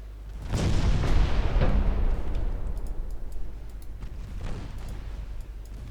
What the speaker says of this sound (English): Ammo detonation on Europa.